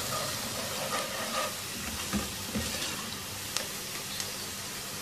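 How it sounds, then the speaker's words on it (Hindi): Chopped onion fries in a pan with a steady, close sizzle and hiss, small pops breaking through now and then, with no talking. "2-3 मिनट इस प्याज को फ्राई करेंगे।"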